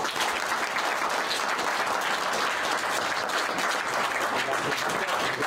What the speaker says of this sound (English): Everyone give a quick round of applause.